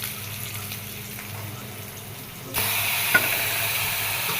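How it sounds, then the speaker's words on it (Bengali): Onion and spices frying in hot oil for a potato, pointed gourd and fish curry, with a faint hum at first and then a sudden rise into a steady, close sizzle with one brief clink. "এখন সব মশলা দিয়ে ভালো করে কষায় নেবে"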